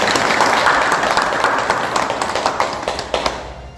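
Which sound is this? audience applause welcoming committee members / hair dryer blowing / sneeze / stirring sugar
audience applause welcoming committee members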